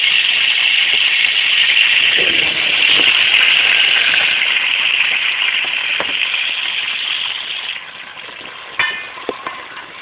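Onions fry in hot ghee with a loud, dense sizzle that holds strong for about eight seconds and then thins out, with a few sharp clinks of a utensil near the end and no talk.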